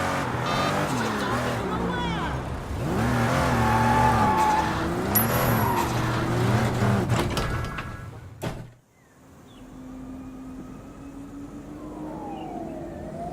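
A car in the video game Sleeping Dogs revs and drives hard with a wavering engine note and tire squeal. It ends in an abrupt cut, then a quieter stretch follows with a faint siren-like tone.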